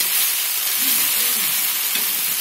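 Ground dried chilli, coriander and cumin powders sauté in a pan for ghugni, giving a loud, continuous, close sizzle with a faint stirring texture underneath.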